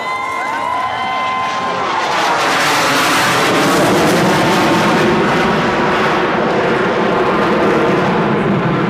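A CF-18 Hornet fighter jet roars past at an airshow, a loud sweeping engine rush that builds quickly and holds as a dense, continuous roar.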